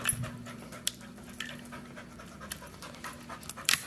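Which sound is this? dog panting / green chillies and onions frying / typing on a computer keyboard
dog panting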